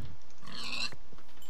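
A single pig grunt from the Minecraft video game, a short close oink with a bright squealing edge, followed by quiet.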